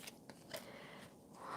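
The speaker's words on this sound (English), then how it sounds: "Shuffle a little more." Tarot cards being shuffled give a few faint, quick papery riffles and snaps over a second and a half, quiet and close.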